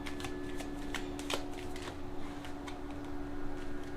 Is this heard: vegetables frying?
no